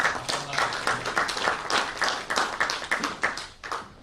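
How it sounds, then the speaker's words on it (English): An audience claps during a speech on advancing United States and India relations, the applause loud and close, built from rapid overlapping bursts that rise and fall in uneven pulses. "So let's give them a big round of applause."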